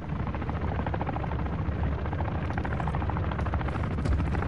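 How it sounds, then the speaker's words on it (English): A steady, loud helicopter rotor drone in the video game Call of Duty DMZ, with a dense, continuous chop, holding constant throughout with no voices. "We got a helicopter coming up?"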